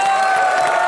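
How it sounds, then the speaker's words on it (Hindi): A comedy show studio audience breaking into a brief, loud burst of applause and cheering, a dense wash of clapping and voices. "सलमान वाई खान के लिए जोरदार तालियां।"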